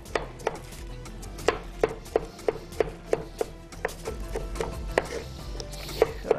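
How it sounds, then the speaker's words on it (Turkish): Knife chopping tomatoes on a cutting board in a home kitchen, a steady series of sharp, close taps at an even rhythm over a low background hum. "Bir yandan da domatesler doğrandı."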